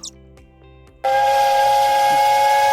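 After a second of near silence, a loud, sustained steam train whistle blasts and holds a steady, piercing tone.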